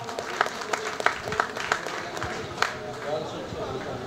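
An audience at a gathering in Chandannagar claps in a run of sharp, rhythmic hand claps that fade into scattered applause, with voices talking over it.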